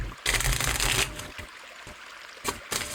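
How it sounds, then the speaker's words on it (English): Tarot cards are shuffled close by in several quick riffling bursts, each a crisp papery flutter separated by short quiet pauses. "let's give it a good shuffle and see what we get here for our final card"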